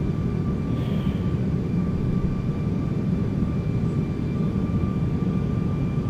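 A steady, droning airliner engine roar from the X-Plane 12 flight simulator, heard from outside the aircraft during flight with flaps set, continuous and fairly loud with a faint tonal whine and no talking.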